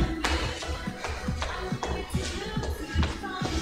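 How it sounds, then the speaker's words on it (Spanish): Sneakers squeak and thud in a steady rhythm during jogging in place, roughly two footfalls a second, close and moderately loud. "No sé por qué mis tenis rechina."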